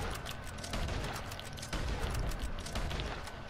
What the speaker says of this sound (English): there's someone shooting, and I don't know from where.